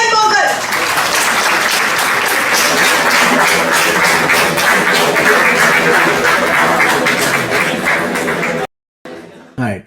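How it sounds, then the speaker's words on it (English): Dense, loud applause from a college seminar audience fills nearly ten seconds without pause, then breaks off abruptly near the end, followed by a brief, quieter burst of clapping. "A huge round of applause for Mr. Chetan Mogal."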